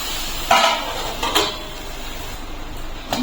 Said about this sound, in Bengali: এখন গ্যাসের ফ্লেমটা লোতে করে আমি ঢাকা চাপা দিয়ে নেব